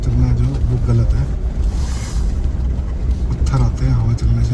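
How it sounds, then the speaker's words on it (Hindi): A strong wind blows on a mountain road during a snowstorm, a constant loud rushing roar that buffets the microphone, with voices talking beneath it. "हवा चल रही है"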